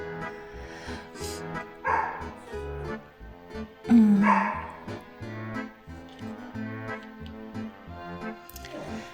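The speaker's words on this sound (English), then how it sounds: "Oh, the dog is barking." A dog barks and yips a few times indoors at moderate distance, with whiny, whimpering sounds between the barks.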